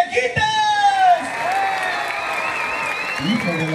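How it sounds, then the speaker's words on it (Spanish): A crowd applauds with whoops and shouted cheers for a contestant, a steady roar of clapping and voices filling the whole stretch. "¡Aplausos para Mataviejitas!"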